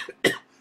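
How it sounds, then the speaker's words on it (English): One sharp, close cough from a person at home, brief and alone. "coughing a little bit"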